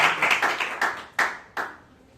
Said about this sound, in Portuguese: Dê uma salva de palmas ao Senhor, em nome de Jesus.